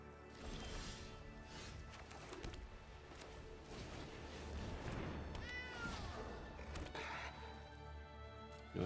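Cats meowing in a digital card video game, several short meows and cries scattered across a busy mix of game music and effects at moderate level.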